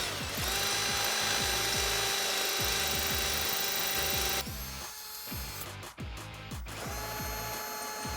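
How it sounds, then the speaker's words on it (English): A power drill runs with a 5/16 drill bit, widening existing bolt holes on a Jeep Wrangler TJ during a Rough Country 3.25-inch lift kit install, giving steady close mechanical whirring with rapid repeated ratcheting clicks throughout. "So now we can use a 5/16 drill bit to widen up the existing holes on the top and the bottom."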